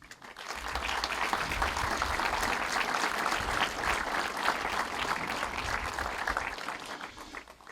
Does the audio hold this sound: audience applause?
yes